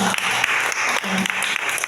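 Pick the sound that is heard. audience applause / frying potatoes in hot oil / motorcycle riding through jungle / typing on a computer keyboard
audience applause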